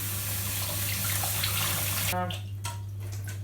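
Tap water runs into a sink, rinsing lettuce in a colander, then cuts off abruptly partway through, leaving a few faint drips and rustles.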